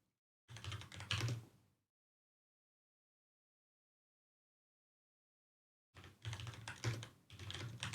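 Typing on a computer keyboard during a home live stream, heard as two dense bursts of rapid clicking keystrokes, close and fairly faint, separated by a few seconds of silence.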